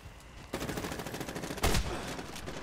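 Shotgun blasts boom in Medal of Honor Warfighter multiplayer, with a steady run of firing building after a half-second lull and one heavy, close blast standing out near the end.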